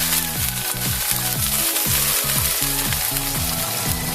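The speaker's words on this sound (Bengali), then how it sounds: "এখন আমি কেটে রাখা পেঁয়াজটা হালকা করে ভেজে নেব" Chopped onion fries in hot mustard oil, giving a dense, continuous close-up sizzle with no one speaking.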